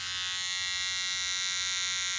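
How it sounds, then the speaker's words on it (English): Trimmer side of a Philips Norelco Bodygroom 7100 (BG2040) body groomer running, an even electric whir that is slightly quieter and duller than the foil side, close and unbroken throughout. "And here's the trimmer side."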